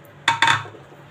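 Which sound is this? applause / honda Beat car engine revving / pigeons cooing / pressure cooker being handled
pressure cooker being handled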